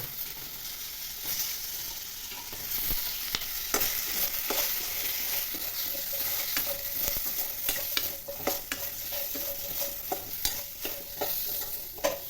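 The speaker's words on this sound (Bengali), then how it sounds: "এবার পটলগুলো ভেজে নেব" Pieces of pointed gourd (potol) fry in a pan over medium heat, a continuous close sizzle broken by frequent scraping and clattering stirs, with no voices.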